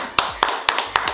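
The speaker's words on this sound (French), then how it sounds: "Ça mérite hein, des acclamations" Four sharp, evenly spaced hand claps, close and fairly faint, in a short burst of clapping celebrating a 50th anniversary.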